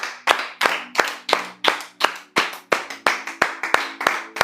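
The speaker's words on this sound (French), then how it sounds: "Est-ce qu'on peut acclamer?" Rhythmic hand clapping at a church retreat, steady and evenly spaced at about three claps per second, close and crisp, more like a few people clapping together than broad applause.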